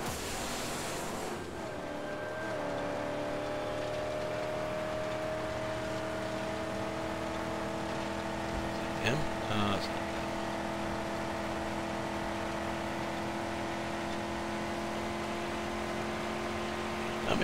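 Car engines in the Mad Max video game drone steadily in a low hum with a brief swell partway through, heard alone without speech.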